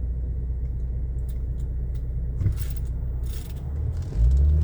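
A car driving along a Kalamazoo street past abandoned homes, a steady close engine rumble and road noise that swells briefly near the end.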